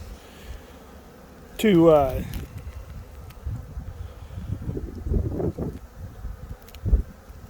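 A honeybee swarm hums in a low, continuous drone close to the microphone, with wind rumble and brief bursts of someone talking over it.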